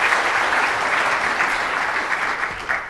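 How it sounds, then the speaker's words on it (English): A full audience applauds steadily to welcome a guest speaker at a NIST lecture, a dense, even wash of clapping that holds for a few seconds without voices. "give him a warm round of applause"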